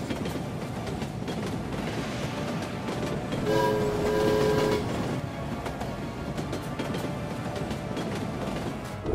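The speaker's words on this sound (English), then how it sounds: "The train is already rushing at full speed and it's about to come to the platform." A train rushes at full speed toward a station platform: a steady, loud rumbling roar with a brief horn-like tone rising midway, then continuing to the end.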